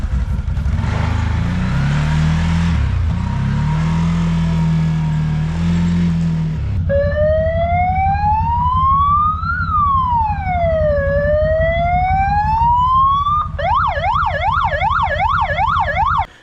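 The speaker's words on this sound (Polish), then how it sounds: "tak się prezentuje właśnie kład z pługiem. Dźwięk silnika jest piękny." An ATV quad fitted with a snow plow idles with a low, steady engine rumble at a volunteer fire station in winter, followed by a loud, sweeping siren wail and then a rapid yelping siren over the engine.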